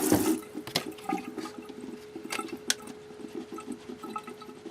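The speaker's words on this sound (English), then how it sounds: "We're just going to rinse them again." Water running over alfalfa sprouts being rinsed at a sink, a close splashing trickle with irregular clicks and knocks of the container, continuous and moderately quiet, with no talking.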